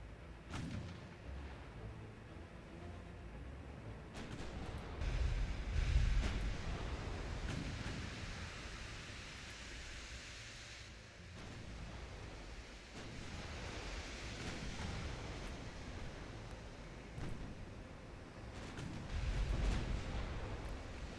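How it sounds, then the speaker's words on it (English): Naval artillery shells rumble in from Ultimate Admiral Dreadnoughts, a continuous low, roaring wash of distant fire with swelling booms and surf-like noise, fairly faint and steady throughout. "That's so many fucking shells coming in."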